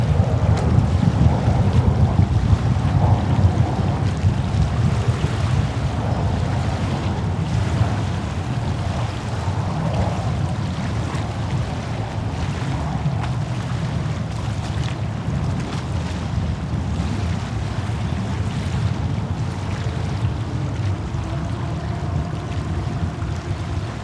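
Wind gusts at JFK airport, a steady broadband rush with low rumbling buffets against the microphone, continuous and fairly loud for the whole stretch with no voices.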